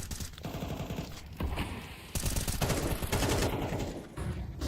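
Rapid bursts of gunfire in a Counter-Strike esports match, dense and continuous, rattling in quick succession with a few louder volleys.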